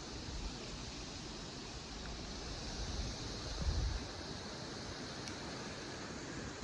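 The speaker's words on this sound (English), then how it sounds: "you hear that wind?" Strong, steady wind roars and buffets outdoors on a snowy February day, loud and continuous with a brief gust swelling near the middle.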